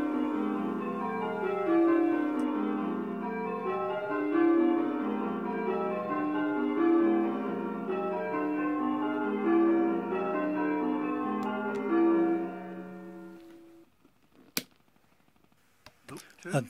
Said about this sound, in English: Now let's ring the same method, plain Bob, but this time with 9 changing bells and the tenor covering.